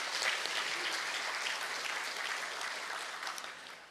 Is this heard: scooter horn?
no